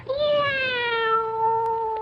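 A domestic cat gives a single long, clear meow that holds steady and slowly falls in pitch, loud and close, with no talk over it.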